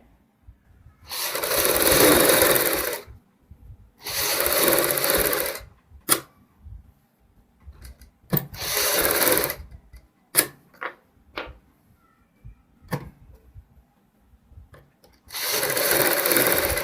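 A sewing machine stitches piping around the front neck of a kurti in bursts of about two seconds, four runs separated by pauses filled with clicks and fabric handling.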